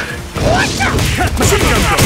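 Dudley's Machine Gun Blow in Street Fighter: a flurry of rapid punch impacts and thuds layered under loud game voices and crowd noise, dense and close throughout.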